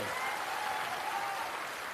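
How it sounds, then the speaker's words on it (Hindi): Audience clapping loudly at a state-level digital wing meeting in Patna, a dense, steady wash of applause held throughout without pause. "एक बार इनके लिए जोरदार ताली बजाइए"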